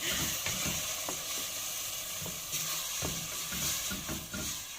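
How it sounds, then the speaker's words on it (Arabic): Tomato juice hits a hot pan in a cooking pot and sets off a loud, steady sizzle with bubbling and a few stirring knocks, close up, with no one speaking. "ننزل بعصير الطماطم بالشكل ده."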